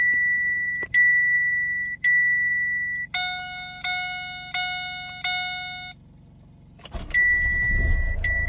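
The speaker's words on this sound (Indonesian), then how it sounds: "Coba kita starter ulang ya." Dashboard chimes beep in a steady repeating pattern on a Chevrolet Captiva diesel facelift, then the engine cranks and fires near the end, settling into a loud, close idle.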